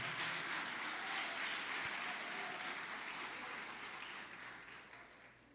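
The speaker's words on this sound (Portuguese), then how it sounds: "Dê uma salva de palmas para esse Deus que não falha." A church congregation claps during a Portuguese-language sermon on depression, a broad, even roar of palms from many people that slowly fades toward the end.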